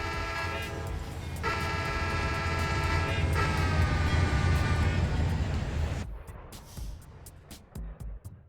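CSX train rolling past close by with a loud, sustained horn blast over the rumble of the cars, then the horn stops and a rapid clatter of wheels over rail joints continues.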